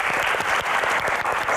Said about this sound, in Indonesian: Tepuk tangan sekali lagi untuk para panelis.